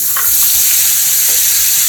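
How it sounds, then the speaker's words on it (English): Sweet corn hitting a hot pan for Southern fried corn, a loud, continuous, close hiss of sizzling fat with no pauses. "So now I'm gonna add my corn."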